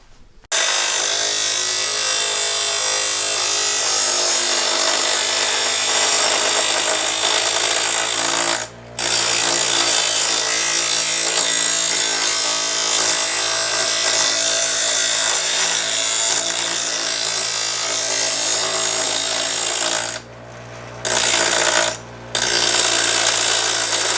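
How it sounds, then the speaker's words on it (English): A grinding wheel cleans up rough edges on a workpiece, a loud continuous power-tool whine and grind running nearly the whole time with a few brief pauses, close and alone with no talking. "Now I'll use this side of the wheel to clean up these rough edges."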